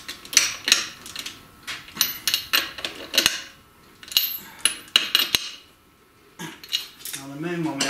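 Metal clinks and ratcheting clicks ring out as nuts are snugged up on an MGB tube-type rear axle, a run of sharp, close, uneven taps and scrapes with a brief scraping sound near the end.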